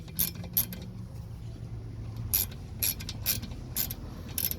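Tightening a TPMS valve nut on a tire valve with a small tool gives a series of sharp ratcheting clicks in irregular clusters over a low background hum, close and fairly quiet.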